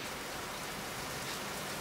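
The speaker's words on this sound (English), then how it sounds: "it's pissing rain outside." Heavy rain pours steadily outdoors, a dense, unbroken hiss of drops hitting surfaces that stays loud and even throughout, with no voices.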